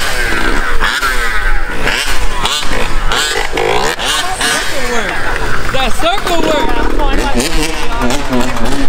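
A wheelie-machine motorcycle engine revs hard and repeatedly, rising and falling in steady throttle blips close by, with people talking over the constant engine roar.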